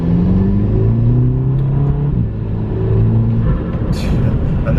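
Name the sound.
VW Golf Mk5 GTI engine with turbo flutter and DSG shifts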